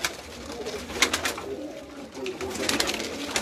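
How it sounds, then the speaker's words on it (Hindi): Kalpota pigeons cooing softly on a Karachi rooftop over a steady wash of background noise, with low murmuring coos repeating throughout. "ये कलपोटे कबूतर हैं इनके, बहुत ही खूबसूरत"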